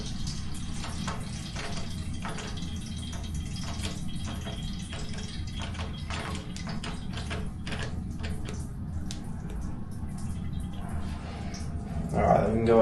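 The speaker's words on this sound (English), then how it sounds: "we're going to go ahead and open these taps up to increase the water flowing from the lower point" Water runs steadily from opened shower taps, a constant rushing flow with faint clinks and handling noises over it, getting a little louder toward the end.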